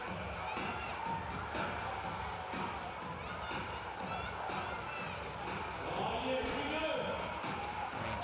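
Crowd noise fills an indoor basketball arena in New Plymouth during a National Basketball League game between Taranaki Airs and Wellington Saints. Steady murmur and occasional cheers sit under a commentator's voice, with faint sneaker squeaks.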